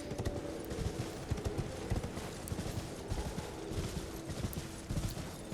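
Steady rhythmic hoofbeats of a galloping horse in Elden Ring, continuous and fairly close, with a low rumbling background and scattered sharp impacts.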